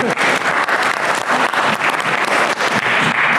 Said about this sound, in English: That's right, you can clap.